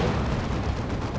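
Heavy weapons fire from lascannons and plasma cannons striking a Baneblade tank in a Warhammer 40k Dawn of War 2 multiplayer battle, a dense, continuous roar of booming blasts and explosions.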